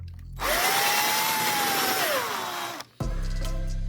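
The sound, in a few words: power drill drilling through plastic and foam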